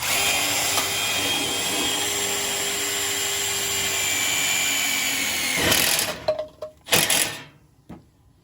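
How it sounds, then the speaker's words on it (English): A power drill whines steadily for several seconds, then stops, with a few short bursts and clunks near the end. "we're going to drill a hole right there."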